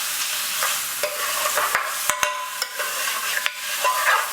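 Finely cut bhuna-style onions frying in oil in a pan for a restaurant-style king prawn balti, giving a steady close sizzle with occasional sharp crackles and stirring knocks, no voices.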